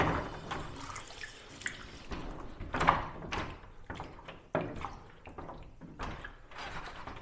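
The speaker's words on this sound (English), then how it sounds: "So I just kind of want to stabilize everything out and just kind of rinse it out right now." Cold water runs into a sink as something is rinsed, a steady washing splash with shifting surges and a few knocks, fairly close and heard alone.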